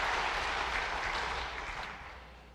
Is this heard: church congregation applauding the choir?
yes